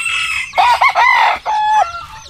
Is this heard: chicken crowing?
yes